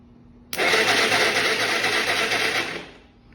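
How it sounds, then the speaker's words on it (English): A Yamaha TTR 230 dirt bike engine cranks over, a sudden loud mechanical whirring that holds steady for about two and a half seconds, then fades out, with no speech. "as long as I know the engine runs and turns over"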